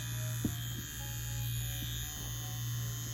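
An Ambition Soldier wireless tattoo machine runs with a steady close electric buzz and hum, a constant motor drone broken only by a few faint ticks, no voices.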